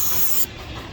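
A short hissing burst of QRC QD electronic parts cleaner sprayed onto a circuit board, close and steady for half a second before cutting off.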